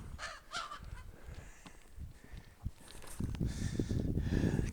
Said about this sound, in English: I think that's a crow. I don't think that's a raven.